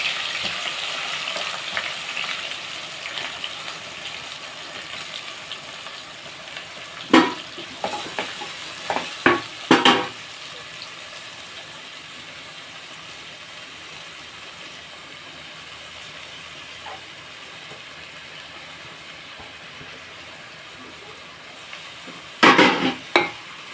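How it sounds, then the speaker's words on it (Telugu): Green chillies and then onions go into hot oil, a continuous soft sizzle of frying punctuated by a few loud clattering bursts of stirring and utensil knocks. "ఆయిల్ ఎక్కిపోయింది కదా మనం పచ్చిమిర్చి వేసుకుందాం తర్వాత ఉల్లిపాయలు అండి"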